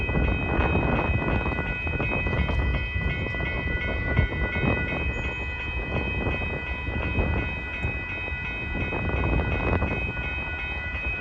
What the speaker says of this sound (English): Oh, and we got a BNSF train over there.